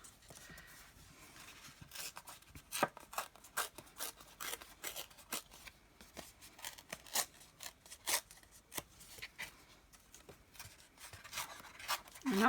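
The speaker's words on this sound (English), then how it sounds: "I'm not hugely experienced at tearing paper." Paper being roughly torn by hand for a textured craft stamping project, giving a series of short, dry ripping and crackling bursts in an irregular rhythm, close and fairly quiet with no voices.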